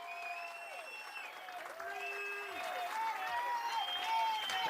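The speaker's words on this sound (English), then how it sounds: "Let's give her a round of applause" A political crowd at a concession speech applauds running mate Avery Bourne, with fairly faint, sustained clapping mixed with rising whoops and cheers that swell toward the end.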